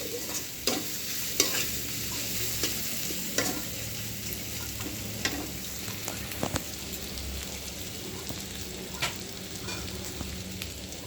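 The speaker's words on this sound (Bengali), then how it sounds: "এখানে আমি পেঁয়াজ ভেজে নিতেছি" Onions frying in hot oil give a steady crackling sizzle, with a spoon scraping and stirring the pan at scattered moments and a few sharp clicks against its sides.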